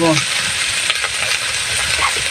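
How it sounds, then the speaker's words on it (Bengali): Ginger, garlic and cumin pastes fry in hot oil with black cumin seeds for a Bengali fish curry, giving a steady, close sizzling hiss with faint stirring scrapes throughout. "এটা আমি হালকাভাবে একটু ভেজে নেব"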